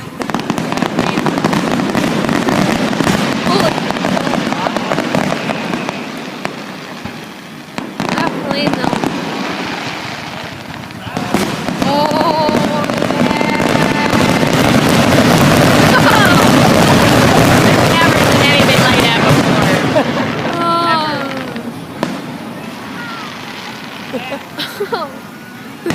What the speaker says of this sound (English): In all my years of fireworks, I've never seen that shit. That was fucking bright and loud.